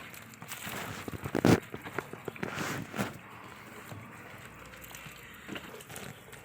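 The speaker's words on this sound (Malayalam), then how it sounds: "ഒരു ഷീറ്റിലിട്ട് ഞങ്ങൾ നല്ലപോലെ കഴുകുകയാണ് വെള്ളം ഒഴിച്ച്" Water poured over freshly dug turmeric roots spread on a sheet, a close splashing and trickling with wet crackles and one louder splash burst early on, then softer dribbling.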